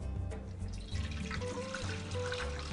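Hot water poured into a bread machine pan that already holds olive oil, a steady close trickle and splash running continuously for a few seconds with no talking.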